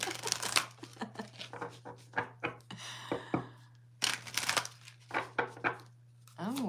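Cards shuffled for a card reading, with repeated short riffles and soft slaps in uneven bursts over a steady low electrical hum, a voice speaking intermittently between them.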